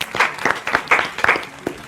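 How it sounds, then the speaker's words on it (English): Applause at a university quiz contest between JKUAT and Catholic University, a short run of claps with loose rhythm, moderately loud, that breaks off quickly. "A round of applause, please"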